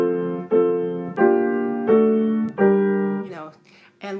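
A hymn played choppily on a keyboard without legato pedaling, as a series of detached sustained chords, each cut off before the next begins, fairly loud and close with no talking.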